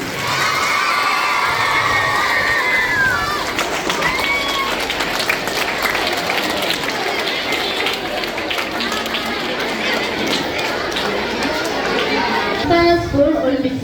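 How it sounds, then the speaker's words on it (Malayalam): Schoolchildren at a school Olympics ceremony, held as the torch is lit, cheer and shout in a loud, continuous crowd roar with scattered clapping, lasting throughout and briefly swelling near the end. "നല്ലൊരു കൈയടി."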